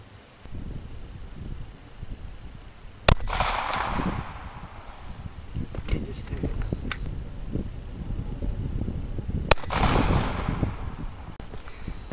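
Two sharp, loud sidearm gunshots ring out several seconds apart at an outdoor range toward a 100-yard target, each snapping crack trailing off in a brief echo over faint wind and background rustle.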